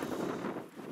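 Strong wind blows across a snowed-in Siberian yard after an overnight snowstorm, a brief, steady, close rushing gust buffeting the microphone with no speech.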